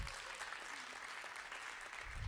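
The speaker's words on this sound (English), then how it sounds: "That deserves a clap." Applause from an audience at a women's testimony event, steady dense clapping that carries evenly from start to finish, with no distinct voices over it.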